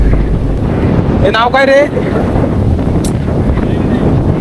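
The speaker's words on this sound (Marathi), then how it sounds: "पाऊस वगैरे वारा भरपूर आहे" Strong wind buffets the microphone with a steady, loud roar throughout, on a rainy outing near a Konkan seaside temple in Ratnagiri, while a person briefly speaks over it.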